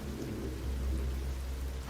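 A steady wash of heavy rain with a low rumbling undertone of thunder, used as a sound effect in a Korean horror radio drama, continuous and fairly loud with no voices over it.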